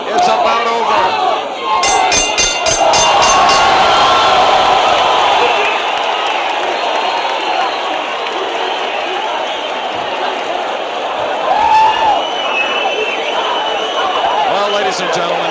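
A standing boxing arena crowd at a heavyweight bout roars and cheers loudly and continuously, with bursts of clapping and shouts rising throughout.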